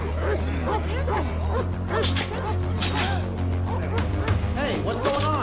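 Dog barking and yipping in the animated series Street Fighter II V, repeated excited barks and whimpers over a constant music bed.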